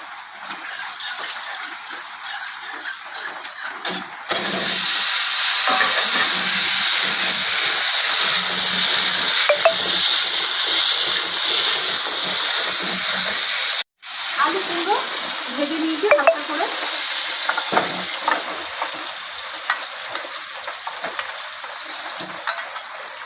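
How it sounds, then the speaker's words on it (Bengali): Potato and pumpkin pieces sizzle steadily in hot oil for shrimp khichuri, a dense close hiss with faint stirring clinks throughout, briefly dropping out twice, with no talk over it. "তেল আমি আলু কুমড়োটা ভেজে নেবো"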